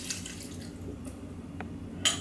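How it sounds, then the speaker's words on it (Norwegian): Broth and water go into a pot of Mexican pork stew with taco seasoning and canned tomatoes, giving faint liquid trickling with a couple of brief splashes and drips, no talking. "Så skal vi ha oppi buljongen og vannet."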